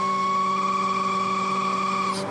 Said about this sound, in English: That's the relief valve operating, and it means you are overpressuring and overheating the system.